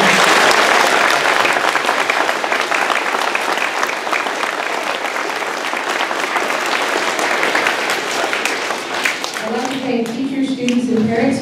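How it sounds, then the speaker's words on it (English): An audience at an elementary school Veterans Day program applauds two singers with loud, sustained clapping that runs for several seconds before fading, as a voice begins speaking near the end. "Let's give them a round of applause."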